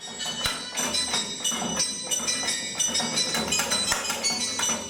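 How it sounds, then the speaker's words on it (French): An electronic practice carillon in Liège rings a steady run of bright, metallic bell strikes, one note after another at an even pace, clear and fairly close with no voices. "c'est une grande première à Liège d'avoir un carillon d'études entièrement électronique"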